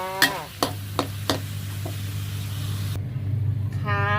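Eggplant stir-fries with chicken curry paste in a pan for a spicy chicken dish: a few sharp spatula scrapes open onto a steady low sizzle and hum, with someone speaking over it.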